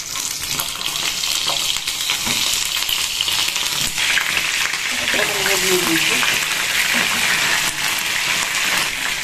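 Pointed gourds fry in hot mustard oil with a dense, continuous sizzle and crackle throughout. A voice talks over it partway through.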